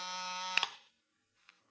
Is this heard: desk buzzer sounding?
yes